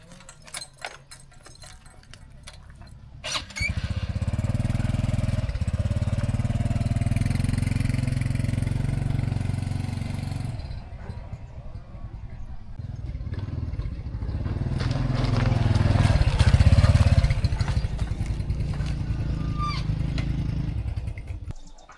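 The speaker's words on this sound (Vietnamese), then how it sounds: "mượn được con xe máy để đi lại" A borrowed motorbike starts and runs close by, with a steady mid-pitched engine drone that idles, then swells as it revs and fades near the end, over faint background clatter.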